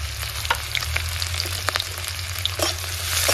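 Onion, chilli, garlic and ginger sizzling in a pan of hot oil, a steady close crackle with occasional louder pops and stirring scrapes, no voices.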